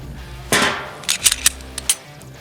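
A Glock 19 Gen 4 pistol with MOS optic mount fires one loud, close, sharp report, followed by several fainter cracks and clicks in quick succession.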